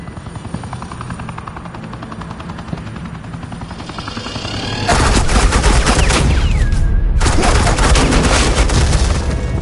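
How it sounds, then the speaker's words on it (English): Suppressing gunfire erupts in the video game Batman: The Enemy Within, a loud, dense barrage of rapid shots over a constant thudding helicopter drone, starting midway and carrying on to the end, with no talk. "Suppressing fire."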